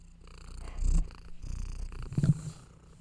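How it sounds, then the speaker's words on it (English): A pet cat purrs close by in a home near a desk keyboard and microphone, a low steady rumble that swells twice. "She's a funny cat."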